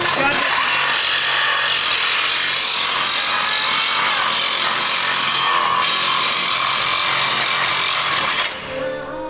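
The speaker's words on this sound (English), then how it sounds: "Straight for the Sawzall, huh?" A Sawzall reciprocating saw cuts steadily with a loud, dense, rasping buzz that runs nearly unbroken, then cuts off just before the end.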